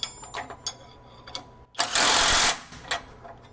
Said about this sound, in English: that's hitting longer than most of the tools that I've used, most impact wrenches that have that feature